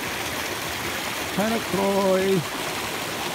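Steady rushing water from the Hannacroix Creek waterfall in the Catskill Mountains fills the scene, with a voice speaking briefly over it.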